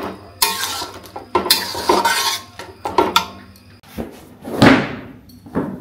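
A cooking pot holding banana flower with poppy seed and added water gets its lid, with loud metallic clatters, knocks and a scraping slide of metal on metal, close up in a home kitchen with no talk.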